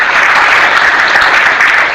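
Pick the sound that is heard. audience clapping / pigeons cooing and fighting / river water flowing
audience clapping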